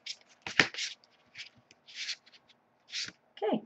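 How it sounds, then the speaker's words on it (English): A deck of Angel Tarot cards is shuffled in several short riffling bursts separated by pauses, soft and close in a quiet room. "as I shuffle the deck"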